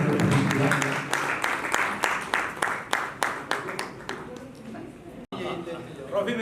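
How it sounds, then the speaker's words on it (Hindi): Audience at an awards ceremony honoring a late poet and musician claps in a strong, rhythmic burst that fades out, with a voice talking over the applause. "जोरदार तालियां भैया"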